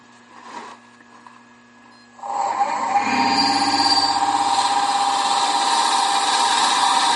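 A wood lathe turning a candlestick starts after a quiet moment, spinning up into a loud, steady whirring drone that continues to the end, no talk.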